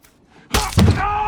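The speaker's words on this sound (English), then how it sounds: "those are some serious arrows" Arrows striking in a tense woodland scene from the TV show The Punisher, a sudden heavy thunk followed moments later by a second louder thud, close and forceful with a sustained ringing tail.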